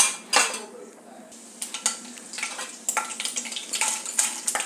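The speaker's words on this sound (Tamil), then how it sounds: "அதுக்கும் கொஞ்சம் கடுகு உளுந்து மட்டும் போகிறோம்" Mustard seeds and urad dal tempering in hot oil for murungai keerai curry, with a quick crackling sizzle and sharp metallic clinks of a spoon against the pan, close and busy.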